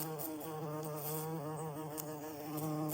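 A large bee buzzes steadily and loudly, trapped between a tent's inner bug net and outer fly while backpacking the West Highland Way in Scotland, its drone wavering in pitch for nearly three seconds with no talk.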